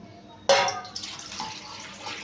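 Water poured into a pan for boiling soaked dried peas, starting with a sudden splashy gush that settles into a steady, close pouring stream, with no talk.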